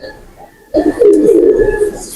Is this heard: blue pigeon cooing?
yes